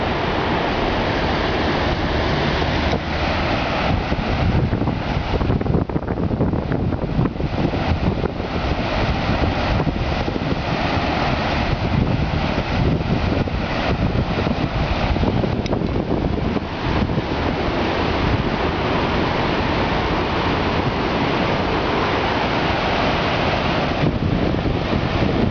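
Waterfall in Lewiston/Auburn, a steady broadband rush of falling water that holds constant throughout, mixed with some wind buffeting on the microphone and no voices.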